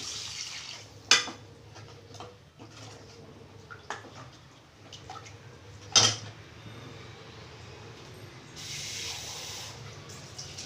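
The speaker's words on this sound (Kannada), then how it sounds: "ಮಿಕ್ಸಿ ಬಟ್ಲಿಗೆ ನೀರು ಹಾಕ್ಕೊಂಡು ಹಾಕ್ತಾ ಇದ್ದೀನಿ" Water swished in a mixer jar and poured into a pan of chicken keema curry, hissing splashes with two sharp clanks of the jar against metal and a final gush of pouring near the end.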